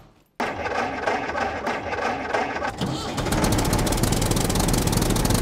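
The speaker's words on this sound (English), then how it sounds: "when we drive the tractor, makes a heck of a lot of noise" A tractor engine drives along in the survival video game Scum. A low mechanical rumble starts abruptly, then settles into a louder, rapid, steady chugging pulse that carries on to the end.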